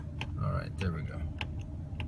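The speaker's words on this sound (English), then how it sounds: "I was clicking away like crazy here. It wasn't a very responsive button." A dashboard button in a 2016 Ford Expedition XLT is clicked repeatedly, giving a few sharp, quick clicks over a low cabin hum and a faint murmur.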